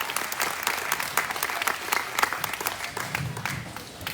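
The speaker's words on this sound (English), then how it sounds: "let's start the morning with a big round of applause for these folks for making this deal go." Steady applause from a crowd at a junior swine showmanship livestock show in an arena, dense clapping sustained throughout with a faint murmur of voices underneath.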